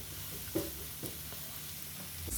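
Ground spices with turmeric and coriander powder fry in a pan for dhaba-style keema, giving a low, steady sizzle broken by a few soft scrapes of stirring, close and moderately quiet with no talk.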